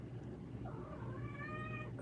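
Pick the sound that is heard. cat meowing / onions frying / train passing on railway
cat meowing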